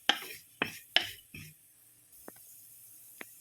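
A spoon scrapes through turmeric, Kashmiri chilli and chilli powders in a pan for salmon fish curry, giving four short scraping strokes, then a couple of faint metallic clicks in near silence.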